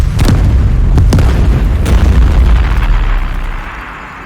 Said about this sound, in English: The carrier exploded. Debris and flames shot in all directions.